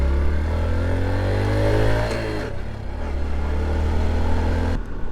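A new 2023 Trail 125 motorcycle revs up on its first ride, the close engine note climbing through a gear, easing off, then pulling steadily again, loud and continuous throughout.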